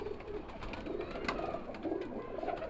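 A male pigeon coos in low, rolling phrases that repeat several times at close range, with soft handling noise and no speech.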